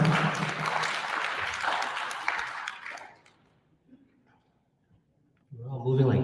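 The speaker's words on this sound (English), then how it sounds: "Give her a round of applause." Applause from the audience at a Key First Nation open forum during the 2022 election, filling the first three seconds and then giving way to near silence before talk resumes.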